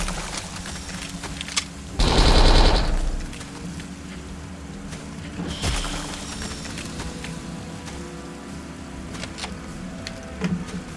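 A single short burst from a Sten submachine gun in a video game rips out loud and close, followed by a quieter thump and sparse faint clicks over low background hum.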